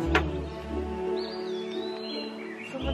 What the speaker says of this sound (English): The birds were chirping since 5 a.m.